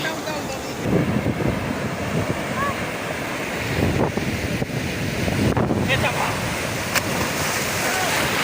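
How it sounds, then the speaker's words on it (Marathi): Sea waves on Nagaon beach break and wash in a continuous roaring surf, close by, with heavy wind buffeting the microphone and surges of louder crashes. "खतरनाक लाट उतरी"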